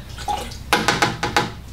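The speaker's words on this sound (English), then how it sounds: "I'm gonna try to get a little bit of water into my shot glass a couple times just to dilute it as" Water poured into a shot glass while mixing hydroponic nutrients, a soft trickle followed by four quick splashing pours in close succession, near and clear.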